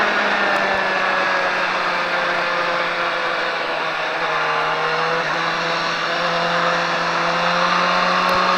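Car on a race track during a driving lesson, accelerating and braking through the corners, its engine whine rising and falling in steady harmonic sweeps, continuous and moderately loud with no talk.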